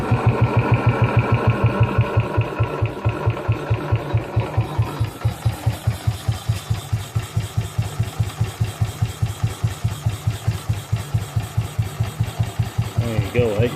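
A BSA B31 single-cylinder motorcycle engine idles slowly with steady, evenly spaced thumping beats, close and loud, the rhythm settling after a brief busier start while someone speaks.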